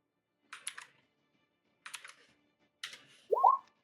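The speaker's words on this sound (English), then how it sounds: "I'm typing it all out." Computer keyboard typing in three short bursts of quick clicks with pauses between, close and crisp in a quiet room, followed by a brief tonal sound.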